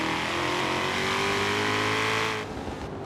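A Shelby GT350R in Forza Horizon 3 accelerates hard through second gear, its engine roaring loud and steady with rising pitch, then easing off near the end; no voices.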